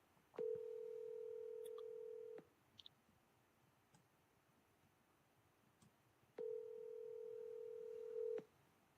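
Two long, steady touch-tone beeps from a telephone being dialed, each lasting about two seconds with a quiet gap between, with faint clicks and no talking.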